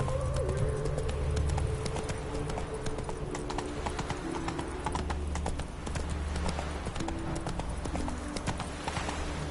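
Horse hooves clip-clopping at a steady trot in The Witcher 3, a close, even rhythmic beat running the whole time over a faint ambient bed with occasional bird calls.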